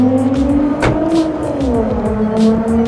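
A Nissan Skyline's V6 engine revs up close by in a continuous, rising and falling drone with a few brief higher-pitched sounds over the top.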